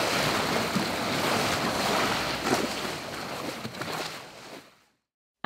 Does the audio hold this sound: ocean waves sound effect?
yes